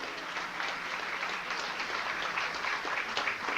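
Audience applauding a singer for his song, a steady wash of many hands clapping at moderate level throughout, with no voices standing out.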